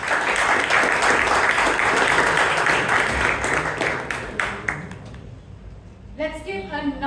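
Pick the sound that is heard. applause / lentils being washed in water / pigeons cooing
applause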